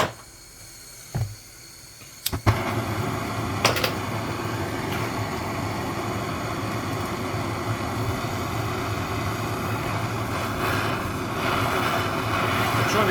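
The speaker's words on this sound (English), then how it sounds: "Let's warm this baby up with the fire starter." A fire starter torch roars steadily while heating a 100 Dinara Yugoslav coin, a constant close hiss after a couple of sharp clicks and ignition bursts, holding for over ten seconds.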